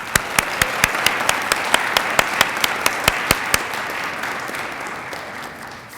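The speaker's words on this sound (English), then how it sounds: "Please give a warm applause to each of these extraordinary individuals." An audience at a National Cancer Prevention Day panel gives warm applause, a sustained wash of clapping with some sharp individual claps standing out early before it gradually fades.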